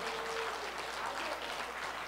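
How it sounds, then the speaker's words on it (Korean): A church congregation claps during a Sunday sermon at Bundang Torch Church. The steady, dense patter fills the whole stretch at moderate loudness, with no voice standing out. "저에게는 박수 쳐야죠"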